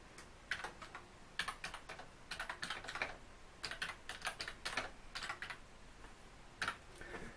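Typing on the keyboard of a Smith Corona 8000LT personal word processor, quick irregular bursts of key clicks with short pauses between runs, close and fairly quiet, with no talk.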